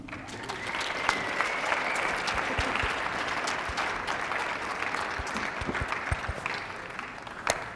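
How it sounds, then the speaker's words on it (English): Conference audience applauding a keynote speaker's arrival, sustained even clapping from a large room with a few sharper individual claps standing out, no talking. "Please give me a warm welcome and a round of applause for Trevor Owens"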